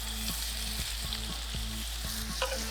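Onion pieces hit hot extra virgin olive oil in a pan for caramelizing, giving a dense, steady sizzle and crackle, close up, with no voices over it.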